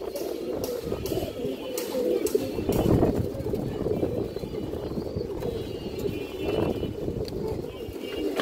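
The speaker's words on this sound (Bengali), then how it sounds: "এই দেখেন দর্শক কবুতরটা" Low, breathy pigeon coos repeat through the whole stretch, a fancy breed shown for sale, with someone talking over them and faint background clatter.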